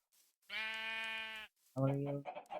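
Sheep in the Minecraft video game bleat in a loud, steady, drawn-out call, followed by a second shorter, wavering bleat, with a few faint sounds before and after.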